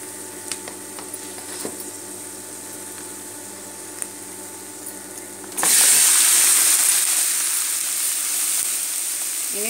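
Lemon pieces drop into a chili powder mixture for lemon pickle, setting off a sudden loud, bright sizzle and hiss that keeps going steadily after a few faint clinks and bumps.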